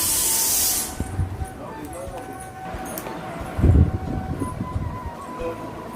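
A pressure cooker lets off a loud, close burst of hissing steam for under a second, then people talk over low background clatter.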